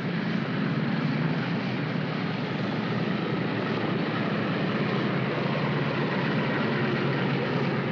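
A 1950-era military transport aircraft sits idling on a runway while taxiing, its engines giving a dense, constant roar that holds steady and close throughout.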